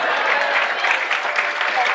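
A classroom of students applauds in a coaching lecture, with steady, dense clapping filling the whole stretch at a fairly loud, even level.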